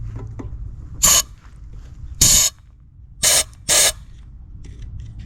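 Compressed air blown into a Maytag washing machine engine during service: four short, loud hissing blasts, the second and fourth longer, separated by quiet pauses with faint background noise.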